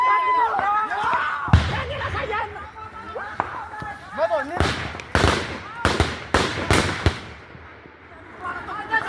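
Gunshots ring out in the Gojjam region, a handful of sharp, loud cracks, some in quick succession. Excited voices shout and talk throughout.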